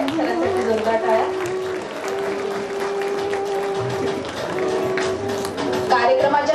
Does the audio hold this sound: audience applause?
yes